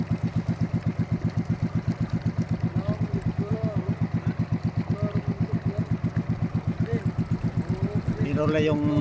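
A boat motor chugs steadily in a shallow mangrove area during a trip to catch mud crabs, its pulsing rhythm close and continuous, with a voice talking over it briefly near the end.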